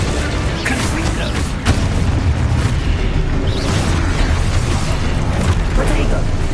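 A Confringo blast spell explodes in Hogwarts Legacy, a loud, dense rumbling boom that fills the whole moment, with steady roaring noise and no clear gaps.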